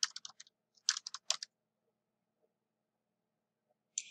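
Keys tapped on a computer keyboard while typing a chart title, in two quick bursts of close, crisp clicks in the first second and a half, then near silence, then one last keystroke near the end.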